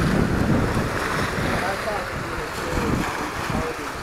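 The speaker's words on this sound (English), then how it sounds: "Smashing the waves up here." Wind-driven waves smash against big boulders in a small cove at Hubbard Creek Lake, Texas, a continuous loud rushing wash mixed with heavy wind buffeting on the microphone.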